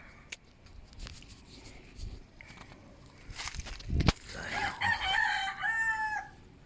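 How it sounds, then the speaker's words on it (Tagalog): A rooster crows loudly near the end, with scattered clucks, rustling and footsteps earlier, fairly close outdoors. "may mga manok-manok ito"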